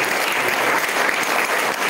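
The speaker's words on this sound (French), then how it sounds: "on va vous applaudir bien fort" A seated audience at a football club event claps loudly for a player, a dense, even wash of applause that holds steady throughout the short stretch with no voices on top.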